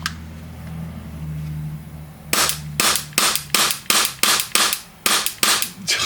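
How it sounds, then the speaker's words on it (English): A CowCow AAP-01 airsoft pistol with an upgraded upper dry-fires about ten sharp, loud, close clacks in a fairly even rapid rhythm over a low background hum. "You guys ready for a dry fire?"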